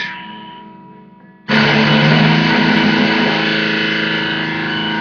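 A heavily distorted electric guitar in drop D tuning kicks in loud after a quieter lead-in, sustaining a thick, crunchy chord with no voices.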